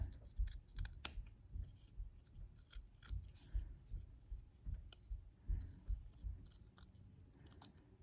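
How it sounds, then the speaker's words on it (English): Quiet, repeated snips of small scissors cutting fabric in a steady rhythm, close and soft, with faint rustling and no talk. "I'm just going to clean it up with the even smaller scissors"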